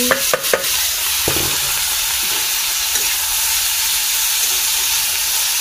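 Cabbage hitting a hot pan, a few sharp clatters at the start, then a steady close sizzle and hiss with soft stirring scrapes.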